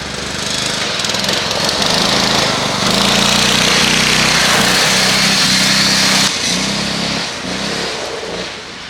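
A modified racing lawn mower engine screams at very high RPM, loud and close, holding a harsh sustained whine with slight dips and surges as the throttle shifts.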